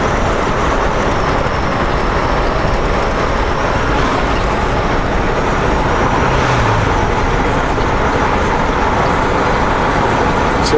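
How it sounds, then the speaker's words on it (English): A heavy truck engine pulls steadily at 1300 RPM in 17th gear while climbing out of Dry Falls toward the basin, a continuous loud broadband drone and road roar throughout with no breaks. "So right now the truck is in 17th gear and I'm running at 1300 RPM."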